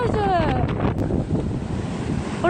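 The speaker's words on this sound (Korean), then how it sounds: "파도 온다." Sea waves surge against a rocky shore in a strong gale during snowy winter weather while fishing, a heavy continuous roar with wind buffeting the microphone, brief voices calling out over it.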